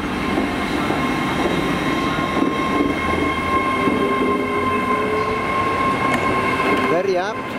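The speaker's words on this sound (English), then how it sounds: "Here we have the poppy train." Steady low rumble of a train idling at a platform at Cardiff Central station, with continuous mechanical hum and a brief high squeal near the end.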